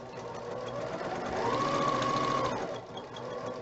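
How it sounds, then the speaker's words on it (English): A sewing machine stitching quilt block seams a scant quarter inch either side of a drawn line, a fast steady mechanical whir that speeds up in the middle, then slows and stops, close and clear with no talking. "I'm going to sew on either side of that line."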